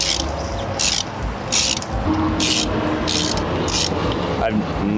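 A ratchet loosens a middle part on a 6.0L Powerstroke engine, its bursts of metallic clicking repeating in steady strokes over continuous background noise, close to the listener.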